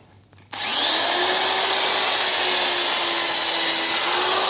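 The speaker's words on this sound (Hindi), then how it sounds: "मान लीजिए हमको यहाँ पे ड्रिल करना है" A power drill bores into an offcut wooden block, starting abruptly after a brief quiet moment and then running as a loud, steady whine that holds for several seconds.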